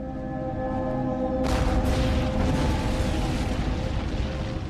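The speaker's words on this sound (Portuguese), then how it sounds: "Ela foi destruída por um disparo de canhão" A cannon shot in a battle near Rhode Island's artillery erupts as a sudden loud boom, followed by a sustained rumbling roar and crackle that fills the rest of the clip over a low, dense background.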